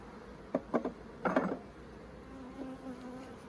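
Honey bees buzz around an open hive during an inspection, with a few louder close passes and scrapes early on, then a softer steady drone.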